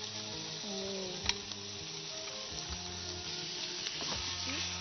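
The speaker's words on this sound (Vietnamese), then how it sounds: "bây giờ anh sẽ cho cái sốt tương này vào" Bean sauce is poured into a hot pan of fried rice with celery, setting off a steady close sizzle with a brief sharp spatter near the start and a few soft scrapes.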